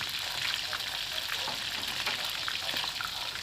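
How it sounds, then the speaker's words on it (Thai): Shrimp fry in hot oil for a Thai fried shrimp salad, giving a steady, close sizzle with bubbling crackle throughout and no voices. "เอาละครับทอดพอสุกเท่านั้นนะครับไม่ต้องทอดมาก เดี๋ยวกุ้งจะแข็งนะครับ"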